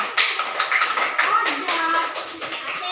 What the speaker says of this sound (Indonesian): Ya, bagus juga untuk kelompok 2. Tepuk tangannya.